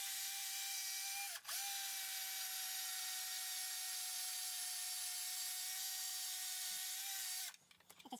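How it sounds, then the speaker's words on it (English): An electric screwdriver works on a 1989 Washburn KC Ltd Chicago Series electric guitar. It gives a steady, loud motor whine that runs almost continuously, with one brief dip near the start before it stops. Clattering handling noise follows at the end. "just an electric screwdriver"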